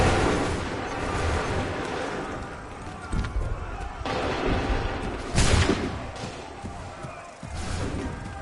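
A volley of musket gunfire rings out in the Assassin's Creed 3 video game, with several loud booming shots and slams over a dense, noisy battle din, and voices shouting among them.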